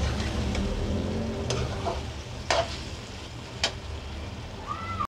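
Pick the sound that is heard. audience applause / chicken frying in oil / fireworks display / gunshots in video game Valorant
chicken frying in oil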